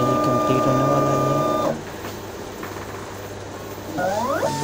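Computer printer printing a car sticker, its mechanical whirring and tonal motor hum loud for under two seconds, then a quieter steady running noise, with a rising squeal of the print head moving near the end.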